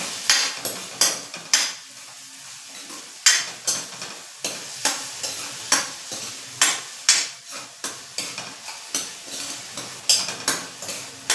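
A spoon repeatedly scrapes and knocks around a pan while salt is mixed into raw mango chutney, giving sharp, evenly spaced clacks over a soft sizzle with no talking.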